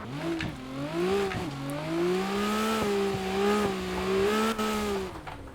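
The 750whp RB26 engine of an R32 GTR in a racing video game revs hard and loud, its pitch sweeping up and down repeatedly toward the redline with a steady, rich harmonic drone and no voices.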